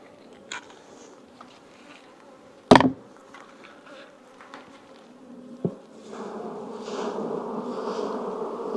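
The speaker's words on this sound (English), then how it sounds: "We'll go ahead and just try to brush most of these bees" Honey bees buzzing around an opened hive frame with capped brood during a hive check: a low, steady droning hum with a couple of sharp knocks, swelling louder and denser in the last few seconds.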